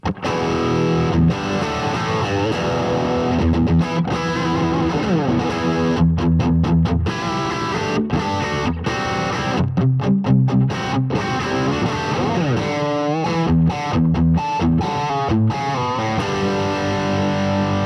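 A Fender Elite Telecaster electric guitar plays heavy, high-gain distorted riffs, loud and continuous with choppy palm-muted stops and sustained chords, no voice present.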